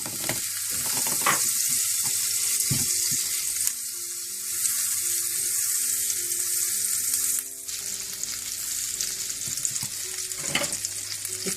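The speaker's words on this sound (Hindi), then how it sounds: "सबसे पहले आपने मक्खन गरम करना है।" Butter sizzling and frying in a hot pan, with a steady crackling hiss throughout and occasional scrapes and stirring clinks, no talking.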